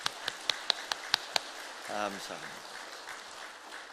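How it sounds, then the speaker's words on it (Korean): During a church sermon, a handful of sharp, separate claps ring out in quick succession from the congregation. They stop quickly, and then someone briefly speaks over a quiet room. "박수 한번 크게 한번 쳐볼까요?"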